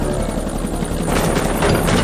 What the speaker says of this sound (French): Deux hélicoptères sont envoyés à la position indiquée par Hambleton.